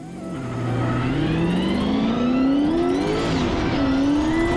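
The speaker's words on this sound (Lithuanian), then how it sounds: "beautiful looking classic BMW 36 right now on the track" Classic BMW race car engine revving hard on track, a loud, steady roar rising in pitch through the gears with a brief dip and climb near the end, close and continuous.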